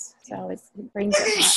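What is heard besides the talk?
sneeze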